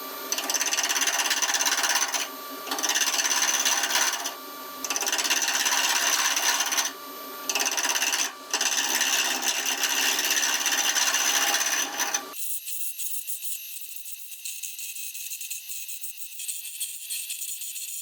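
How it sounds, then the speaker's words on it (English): A wood lathe roughs down an acrylic pen blank, a loud, steady scraping whine broken by short pauses, then it cuts to a quieter, thinner hiss for the last few seconds. "So I'm going to turn it down to rough to start with"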